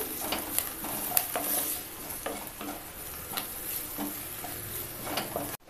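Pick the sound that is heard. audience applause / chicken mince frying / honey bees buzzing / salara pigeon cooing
chicken mince frying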